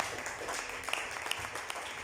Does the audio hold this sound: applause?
yes